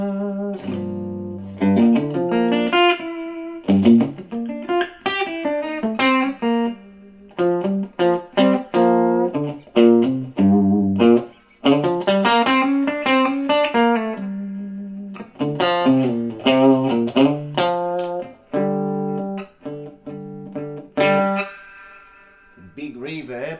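Electric guitar played through a Marshall 12 watt reverb practice amp with the treble turned off and heavy reverb, a close melodic run of picked notes and chords with long ringing tails.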